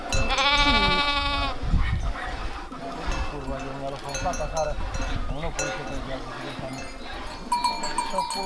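A flock of sheep being gathered by a herding dog bleats in overlapping cries, some near and loud, others farther off, with cowbells clinking and people talking in the background.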